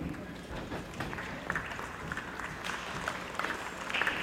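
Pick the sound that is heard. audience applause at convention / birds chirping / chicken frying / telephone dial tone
audience applause at convention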